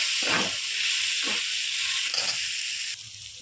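Boiling water is poured into rice cooking for a soybean pulao, giving a steady bright hiss with a few short splashing surges near the pot, then the hiss drops away slightly toward the end.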